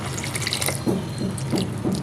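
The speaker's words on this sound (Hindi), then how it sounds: "इस टाइम पर थोड़ा सा अंदर हम पानी ऐड करेंगे।" Water splashes and trickles into a pan of sizzling taro root in masala, with a few gurgling bursts close by.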